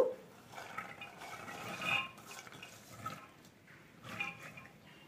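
Water is poured into a pressure cooker holding peas and potatoes, giving soft intermittent splashing and trickling in a quiet kitchen, with a few faint clinks of metal.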